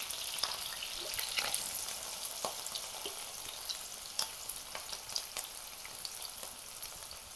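Green chilies and onion sizzle steadily in a pan of hot oil over a lowered gas flame, with scattered crackles and soft stirring scrapes throughout, no talking.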